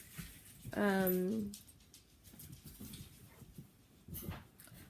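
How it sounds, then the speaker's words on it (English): A dog gives a short, high whining whimper lasting about half a second, close by, with quiet talking and room noise around it. "Rainy, there's my other puppy"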